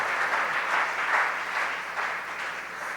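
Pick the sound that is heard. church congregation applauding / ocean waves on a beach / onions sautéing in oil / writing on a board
church congregation applauding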